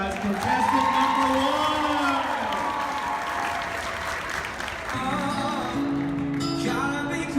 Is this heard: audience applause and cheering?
yes